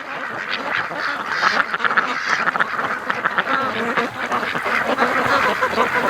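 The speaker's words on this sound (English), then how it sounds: "Just listen to the ducks, you know, they freak out." Ducks on a lake quack in frantic, overlapping bursts, loud and close, with honking calls mixed into the agitated chorus as they squabble during mating, and a faint voice briefly underneath.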